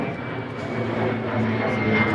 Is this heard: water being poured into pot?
no